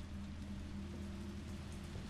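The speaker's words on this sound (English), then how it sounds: "have you ever seen the rain? I have. Right now." Rain falls outside an open window in the Resident Evil 3 Remake video game, a soft steady hiss of drops with a low rumble beneath, faint and continuous.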